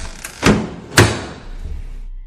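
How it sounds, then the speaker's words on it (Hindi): Two sharp door slams about half a second apart, loud and close with a quick decay, followed by a faint low rumble, used as a horror story effect of a door blown shut by the wind. "उन्हें लगता है कि शायद हवा से दरवाज़ा बंद हो गया"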